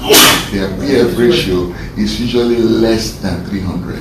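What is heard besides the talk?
sneeze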